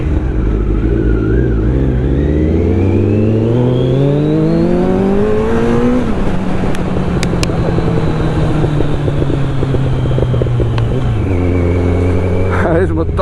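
Kawasaki Z900 motorcycles ride and rev loudly up close, with rising engine tones climbing through the gears, then a steady drone broken by a drop in pitch near the end, under constant wind rush.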